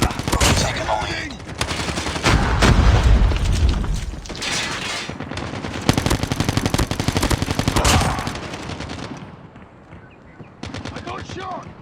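Gunfire rattles nonstop in a video game, dense automatic bursts and booms that fill the whole stretch. An excited voice talks over the shooting now and then, and the firing thins out near the end.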